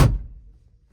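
A single heavy thunk of a John Deere tractor cab door shutting, close and solid, decaying quickly into quiet.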